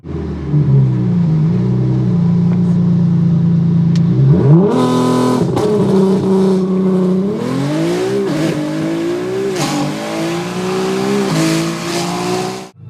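A Nissan R35 GT-R engine pulls hard through successive gear changes, its loud rising drone climbing in pitch and dropping at each upshift, steady and close with no voices.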